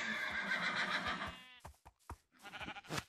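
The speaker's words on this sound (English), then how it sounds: "That's horses." Horse neighing and whinnying in Minecraft, a long stretched whinny followed by a few shorter snorting calls and sputtering bursts, fairly close and alone with no talk.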